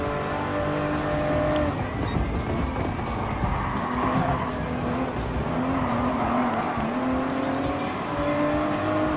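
Race car engines drone continuously and loudly as GR Supra cars lap the Barcelona circuit in Gran Turismo Sport, with rising and falling engine pitch, shifting revs and passing cars throughout.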